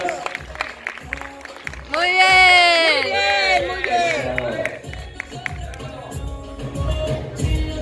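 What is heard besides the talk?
audience applause at a bodybuilding competition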